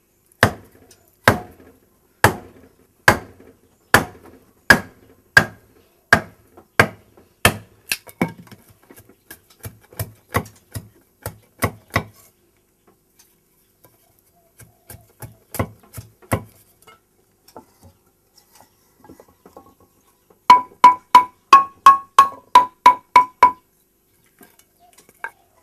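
A gendang drum plays the tampik dua rhythm, sounding sharp, dry strokes in steady even runs, first a long regular series, then sparser softer hits, then a quick bright closing burst.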